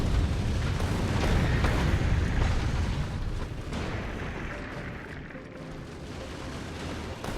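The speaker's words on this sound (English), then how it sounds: "I like the explosive rockets, they're fun though" A barrage of explosive rockets detonating in the factory-building video game Factorio, dense overlapping booms and crackling bursts forming a continuous rumbling roar that gradually thins out.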